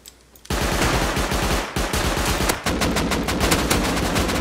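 Close, loud bursts of AK rifle fire in the video game Rust, in rapid automatic volleys that start abruptly and continue almost without pause, with no talking.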